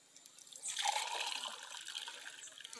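Fresh sugarcane juice pours from a press spout onto a table, a soft close trickle and splatter rising after a quiet start and running steadily to the end.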